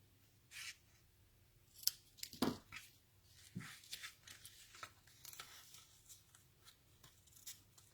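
Scissors trim a craft bow with a handful of crisp, close snips spread irregularly across a quiet background, one sharp cut standing out louder than the rest.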